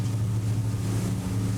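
A steady, low engine drone with rushing wind and water noise from a LEKKER 45 motor yacht cruising at 68 km/h; no talking.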